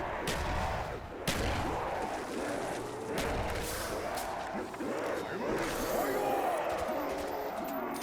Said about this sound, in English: how come there's a lot of explosions?